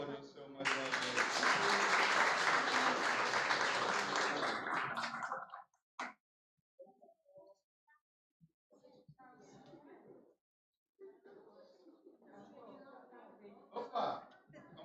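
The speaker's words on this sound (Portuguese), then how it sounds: "Pode aplaudir o Senhor mais uma vez." A church congregation's applause fills the first several seconds, loud and dense, then stops, followed by sparse quiet sounds and scattered voices.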